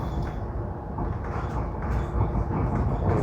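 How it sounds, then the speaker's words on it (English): A subway train rumbles through Dundas subway station in Toronto, a loud, close mechanical roar with rolling low-end rumble and rising, clattering intensity, with no speech over it. "Dundas subway station"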